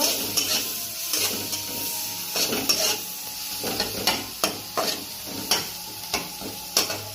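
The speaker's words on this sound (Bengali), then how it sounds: "প্রথমে পেঁয়াজ ভুজিয়ে দিলাম পেঁয়াজটা একটু লাল মতন করে নেব" Onions fry in a pan for fried rice with a steady sizzle, while a spatula scrapes and knocks against the metal in a repeated rhythm, loud and close.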